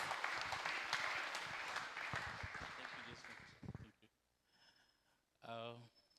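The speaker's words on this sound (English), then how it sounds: "let's clap for him as he comes to make his remarks" Audience applause at a graduation ceremony as the CEO comes up, a dense burst of clapping that fades out after about four seconds, followed by a short spoken word.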